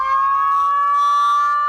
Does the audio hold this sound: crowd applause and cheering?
no